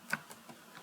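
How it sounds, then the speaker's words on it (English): Keys on a computer keyboard are tapped a few times in quick succession. The clicks are soft, close and isolated, in an otherwise quiet room. "Let us click Windows R key, type pgAdmin"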